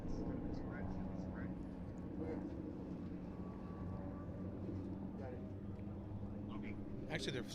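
Propeller planes of the Dawn Patrol drone steadily at the Apple Valley air show, a continuous low hum at moderate distance with an open-air crowd feel, and voices talking beneath it.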